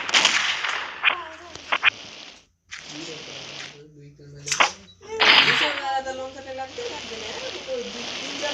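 Rapid gunfire bursts from the Mini Militia mobile shooter game, with sharp cracks and ratcheting reload clicks in quick volleys, broken by short pauses and mixed with a voice talking over the action.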